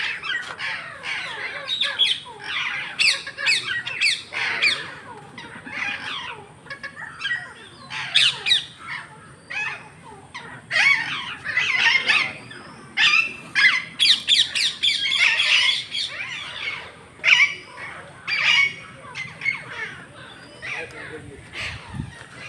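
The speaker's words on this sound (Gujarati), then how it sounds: "પહાડી પોપટું" A mountain parrot squawks loudly and close by in repeated harsh bursts, with short pauses between calls and voices faintly in the background.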